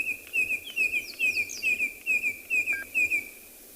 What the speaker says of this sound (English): So that was a red-crested coral calling in the background